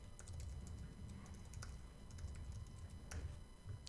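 Close keystrokes on a computer keyboard as a URL is entered into a web content manager, a quick uneven patter of soft clicks over a faint low hum.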